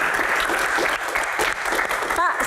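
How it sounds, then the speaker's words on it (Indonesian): An audience at a Q&A session applauds in a steady, close burst of clapping, with a voice cutting in briefly near the end. "tepuk tangan dong"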